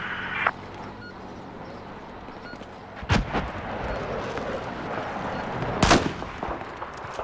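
Battlefield 4 gunfire: a few sharp, loud shots stand out from a low rumbling battlefield backdrop, spaced several seconds apart.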